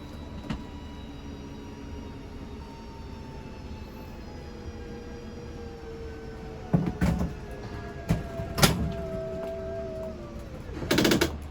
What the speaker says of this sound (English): once it's extended completely, you'll just hear some clicks from the motors letting you know they've reached their stall